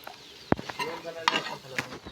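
Onion fritters (piyaji) are lifted out of hot frying oil on a clay stove, with a few sharp utensil clicks and scrapes over a light sizzle, brief and close.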